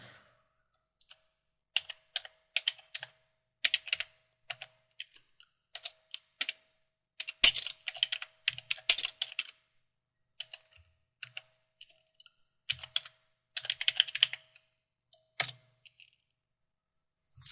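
Names are typed into a database on a computer keyboard in quick, irregular bursts of crisp keystrokes with short pauses between words, close and fairly quiet, with no voices.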